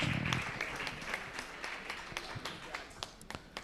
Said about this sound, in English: Give them a round of applause as they are leaving the stage.